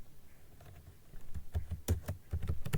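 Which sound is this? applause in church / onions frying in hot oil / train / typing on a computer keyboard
typing on a computer keyboard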